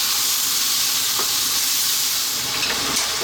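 Juicy fresh tomatoes sizzling and frying steadily in a hot pan as they cook down into sauce, a continuous close hiss with faint stirring clicks.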